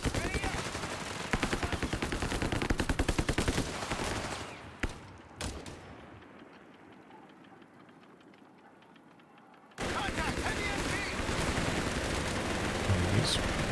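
Heavy machine gun fire during a Company of Heroes 3 1v1 battle, dense rattling bursts for several seconds, a few sharp isolated shots, a lull of low rumble, then sustained loud firing resumes; some speech overlaps.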